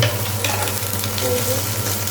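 Chopped, salted eggs frying in a pan give a steady close sizzle with faint stirring scrapes, with a low hum underneath throughout and no talking.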